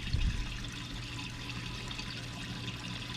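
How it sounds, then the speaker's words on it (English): Water trickles and gurgles into a tomato planter through holes in its bottom, drawn in from the garden bed; a steady close wash of flowing water with a small splash at the start. "once I put this on, I'll let the water start filling up"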